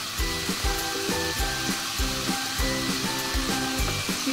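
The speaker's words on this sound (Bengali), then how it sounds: "এবারে এই কচুটা দিয়ে দেব।" Boiled taro hits a hot pan and sizzles, a steady frying hiss with rhythmic clunks of stirring in a close, loud kitchen setting.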